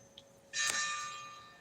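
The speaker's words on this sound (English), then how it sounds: "We hear the church bells." A single church bell strikes once at moderate distance, its bright metallic tone ringing out and slowly decaying over a quiet background.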